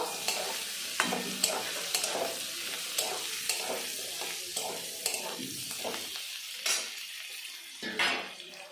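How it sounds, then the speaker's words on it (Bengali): A spoon scrapes and stirs reddish fried onions with papaya in a pan for a papaya masoor dal, repeated quiet strokes and clinks over a soft sizzle. "পেঁয়াজটা আমি লাল লাল করে ভেজে নিয়েছি এখন পেঁপের সঙ্গে মিশিয়ে নেব"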